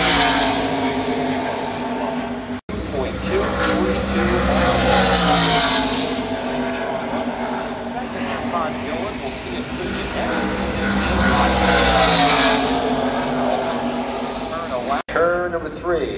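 A NASCAR stock car on its qualifying lap at Pocono Raceway roars down the main straightaway at full throttle. The engine note rises and sweeps past twice, under continuous commentary.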